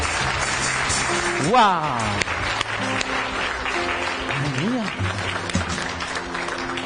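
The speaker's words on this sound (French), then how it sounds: "Donne-lui un grand applaudissement" Applause from a congregation at a church service fills the room, a steady clatter of clapping with a voice exclaiming and sustained musical tones over it.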